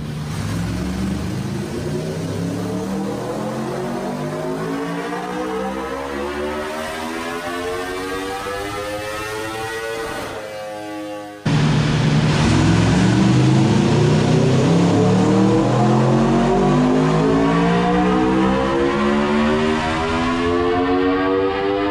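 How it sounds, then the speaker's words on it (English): Aprilia RSV4 1100 Factory motorcycle on a dyno, its engine revving in long sweeping pulls that climb steadily in pitch, cut off briefly, then rise again louder through the second half, with no talk. "you can listen to how good this bike sounds on the dyno without the volume turned down."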